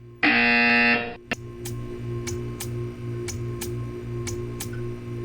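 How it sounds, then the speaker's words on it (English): A loud, harsh electronic buzzer in the video game Portal 2 sounds once for about a second, then gives way to steady soft clicks ticking at regular intervals. "You will hear a buzzer."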